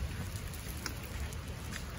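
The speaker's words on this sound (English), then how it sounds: "Oh, oops, it's raining." Steady rain falls outdoors in Santa Fe, New Mexico, a constant close hiss with scattered sharper drop ticks and a low rumbling undertone, no voices.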